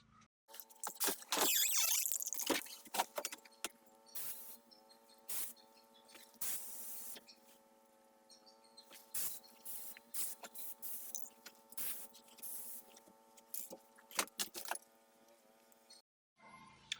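Rust-Oleum spray paint hissing from an aerosol can onto a guitar body, arriving as short and longer bursts over about sixteen seconds, with a steady tone running beneath.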